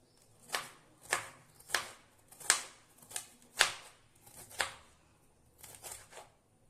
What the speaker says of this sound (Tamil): ரவுண்ட் ரவுண்டாகவே கட் பண்ணி எடுத்துக்கலாம்.